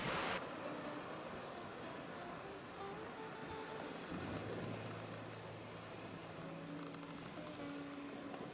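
Ocean waves at high tide at Jordan River point, where a group is kayaking: a steady, continuous wash of surf fills the whole stretch at moderate level, with a faint low engine-like drone partway through.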